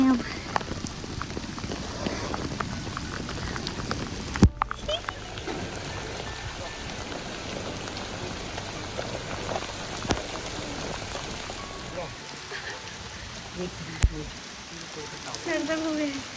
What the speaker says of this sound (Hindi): गाइस बहुत ज़्यादा बारिश होगी यहाँ पे।